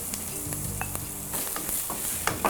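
Onions and garlic fry in a pan while being stirred, giving a steady, close sizzle with occasional scrapes and clicks from the stirring.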